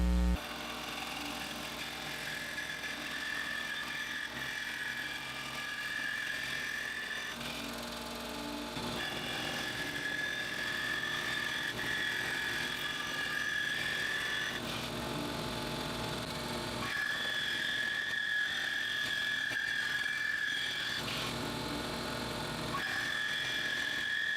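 A blade on a heavy-duty manual slicing jig cuts thin walnut boards, giving a steady, continuous mechanical whir with a repeating high tonal whine that fades and returns between passes, close and fairly even in level throughout.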